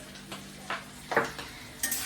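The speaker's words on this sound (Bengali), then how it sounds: "তাতে মাছের ডিমের বড়া ভেজে দেবো আমি, তাই জন্য বড়া ভাজছি" Fish roe fritters fry in a pan, a soft background sizzle broken by a few clinks and scrapes of a utensil stirring, about four or five distinct knocks, no talking.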